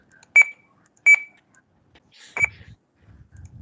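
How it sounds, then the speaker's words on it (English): Three short electronic beeps from clicking a simulated push button in a software demonstration, two evenly spaced then a third, clear and close with a soft low murmur after the last one. "I have to click here. Then only it will beep."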